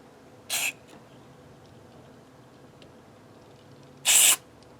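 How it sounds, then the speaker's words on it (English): Electronic spray cleaner from an aerosol can hisses into the electronics of a Fender Starcaster Tele in two short bursts, a brief one first and a louder, longer blast a few seconds later, with quiet between them. "we can take a little bit of this electronic spray cleaner. We can just give them a little shot."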